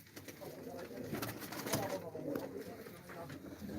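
Pigeons cooing at a loft among birds kept for tumbling flight, soft repeated coos over a steady outdoor bed with a voice talking nearby.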